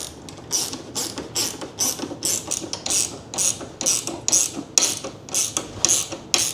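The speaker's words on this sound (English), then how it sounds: "I love the ratcheting wrenches, those work the best." A size 13 ratcheting wrench tightens bolts on a SHAD 3P luggage rack fitted to a Honda Transalp motorcycle. Rapid, close clicking bursts repeat in quick strokes with short pauses between them.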